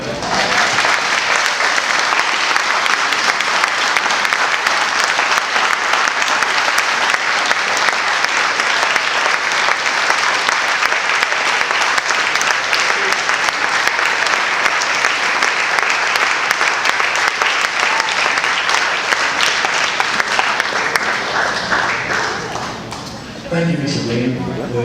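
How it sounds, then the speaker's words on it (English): Loud, sustained applause from an audience after a speech, a dense wash of clapping that holds steady for over twenty seconds before tapering slightly near the end. "Let's give him a round of applause."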